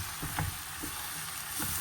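Spoon stirring and mixing potatoes in a pan for a pav bhaji sandwich: a steady frying sizzle with a few soft scraping strokes, close and fairly quiet.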